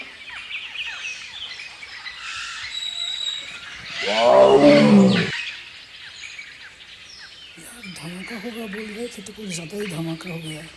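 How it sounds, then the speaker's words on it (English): A wild animal roars during a safari in Kaziranga, one loud swelling roar rising and fading at mid distance, with birds calling around it and people talking quietly before and after. "The roar became fainter and fainter."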